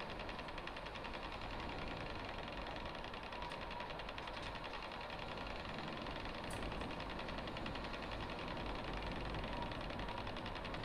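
A Scania truck in a driving video game, hauling a 128-tonne rail wagon at night, drones with a steady, low, even engine rumble that holds constant with no talk.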